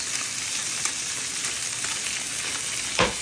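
A Pacific halibut fillet sears in a hot pan with a bright, steady hiss of sizzling oil close by, broken by a couple of light clicks and a sharper spatter near the end, with no voices.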